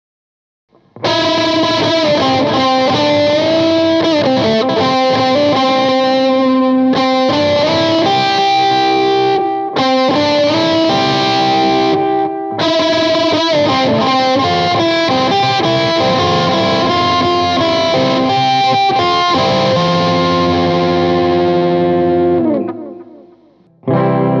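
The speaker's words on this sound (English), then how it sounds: "I'll give you a demo now of the overdriven parts with the DD3 on and a clean bit" An overdriven electric guitar through a DD3 delay pedal plays a sustained riff with echoing repeats trailing each phrase, loud and continuous, with brief pauses between sections.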